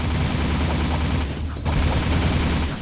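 Gunfire from a shootout with snipers on a bridge in the Jak II video game, a dense, continuous fusillade of rapid shots with a brief dip midway, loud and close.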